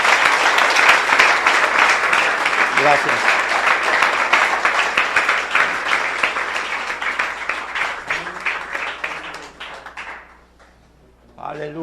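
Steady congregational clapping fills a church, thinning out toward the end, when the clapping stops and someone speaks a few words.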